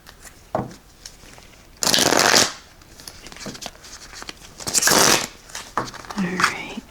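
Tarot cards shuffled by hand in two loud riffling bursts, close to the microphone, separated by quieter handling and brief talk.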